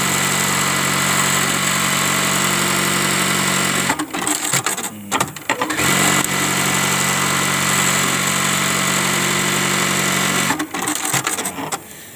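A Juki LBH-1790S buttonhole sewing machine runs with a steady, smooth mechanical hum, close and loud, broken by short clattering pauses around the middle and again near the end.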